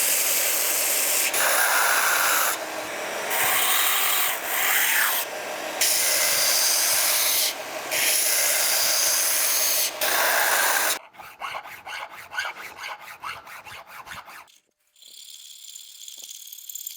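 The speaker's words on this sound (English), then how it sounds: "Let's go to the belt grinder." A belt grinder working a knife made of pure silver, a loud continuous abrasive hiss broken by brief pauses, then quieter rattling and a final drop-off near the end.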